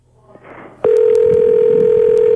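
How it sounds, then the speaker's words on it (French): A Quebec telephone ringing tone sounds as a loud, steady, continuous tone that begins abruptly about a third of the way in and holds to the end, with faint background murmur before it starts. "Là, c'est la sonnerie québécoise"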